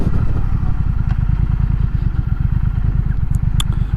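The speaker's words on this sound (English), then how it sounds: "This is a nice riding bike." A 2020 Triumph Speed Twin motorcycle engine runs steadily while riding, a loud, continuous low throbbing rumble with rapid firing pulses, close and dominant throughout, with a few faint clicks near the end.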